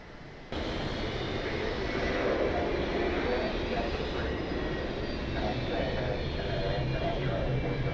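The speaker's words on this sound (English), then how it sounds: "There's a Spirit A320, one of the old livery Spirits, sitting at the hold point for 28 left." A Spirit Airlines Airbus A320 in old livery waits at the hold point for runway 28 left at John Glenn Columbus Airport, its jet engines giving a steady, distant rumbling roar that sets in abruptly and continues without pause.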